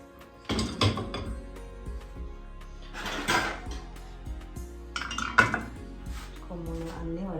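Dishes, pasta bowls and a rice pot being stacked into a dishwasher rack, with several distinct clinks and ceramic knocks plus a rack sliding, close and intermittent over a quiet hum.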